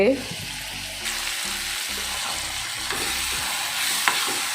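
Spices such as garam masala, coriander powder, red chili powder, turmeric and Kashmiri chili powder roast in a pan with a steady sizzle, faint stirring scrapes, and a low hum underneath.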